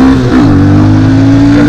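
A Yamaha FZ 25 motorcycle engine revs loudly and close by, with a steady droning tone that dips and then settles into a sustained high idle. No one speaks.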